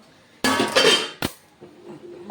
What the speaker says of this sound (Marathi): तवा ठेवला इथं